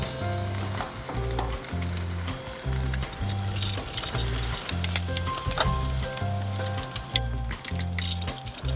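Shrimp for tacos sizzle on a hot grill, giving a continuous crackling hiss with small pops. It plays steadily under rhythmic background music, with no talking.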